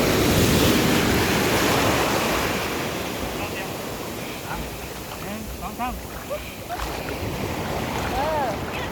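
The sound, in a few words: sea waves at the beach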